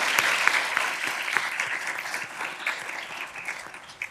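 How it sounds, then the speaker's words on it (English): An audience at a law school moot court competition final gives a round of applause for the sponsoring firm, crisp clapping strongest at the start and gradually thinning toward the end. "So a big round of applause for Buckhalter and Josh Robbins."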